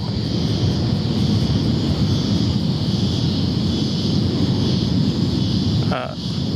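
A United airliner on landing approach to runway 34 left at Sydney Airport gives a steady, droning jet roar with a high whine above it, moderately distant and holding even throughout.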